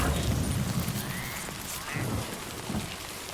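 Timefall rain in the video game Death Stranding 2 falls as a dense, steady hiss with a few low rumbling swells beneath it.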